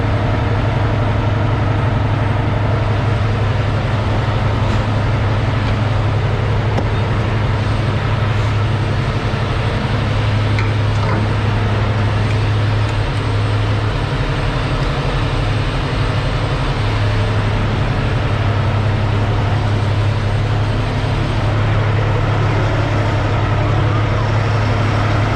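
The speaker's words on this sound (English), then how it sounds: "Man, that truck is loud." A semi truck's diesel engine drones loudly and steadily from inside the cab while driving in fog, a constant low rumble with road noise for the whole stretch.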